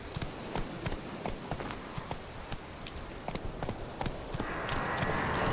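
Rapid clip-clop of horse hooves at a trot in the video game The Witcher 3, sharp regular hits over a steady background hum that swells near the end.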